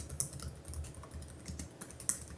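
Soft, quick keystrokes on an ASUS ROG Zephyrus G16 gaming laptop keyboard with 1.7mm key travel, close and quiet, with a few slightly louder taps in an irregular typing rhythm.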